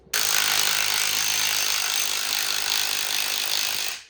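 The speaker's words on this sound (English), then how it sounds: "I might just get a file and kind of file the top of that off a little bit more" A metal file worked across a brake part for a 100-year-old Austin 7, a continuous harsh rasping scrape lasting about four seconds, close and fairly loud.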